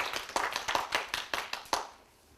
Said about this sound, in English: So, everyone, let's clap for David Neal.